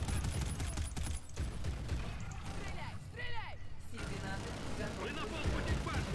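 Rapid bursts of automatic gunfire from the video game Call of Duty: Infinite Warfare rattle on and off amid mechanical game noise, while players talk and shout over the shooting.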